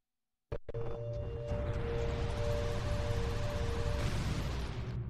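A glitched room sound in Zelda: Majora's Mask cuts in abruptly as a dense, loud roaring wash with a steady tonal hum inside it, running unbroken to the end.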